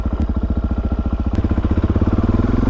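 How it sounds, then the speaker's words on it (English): A passing car's engine note mixes with the steady, pulsing idle of a nearby motorcycle on an open road, a low rhythmic throb that swells and thickens midway before holding loud. "No, freaking cars. I don't want any cars out here right now. Get out of here, car."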